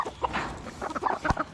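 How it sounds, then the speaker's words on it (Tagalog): A mestizo chicken on a Philippine farm clucking in short, closely spaced bursts, close and moderately loud, with brief pauses between the clucks. "yan yung mistisong manok natin"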